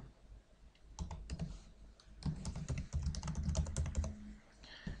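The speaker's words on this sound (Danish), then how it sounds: "Når man taster det ind, så klikker man på login." A username is typed on a computer keyboard in quick, uneven bursts of close key clicks, with a brief pause before a second, denser run of keystrokes.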